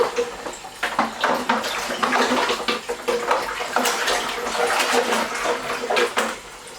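Water pours steadily into a container being filled for strawberry cider, a close, continuous splashing rush that swells and dips for several seconds before easing off.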